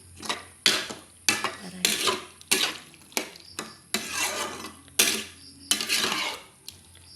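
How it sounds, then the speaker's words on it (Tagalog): A utensil scrapes through sautéed pork and patola in a pan, about ten rhythmic scraping and clanking strokes spaced roughly half a second apart, close by, with no voices. "Haluin natin."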